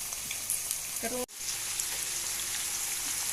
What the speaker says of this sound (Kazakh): Енді осылай қуырлап, тағы бетін жауып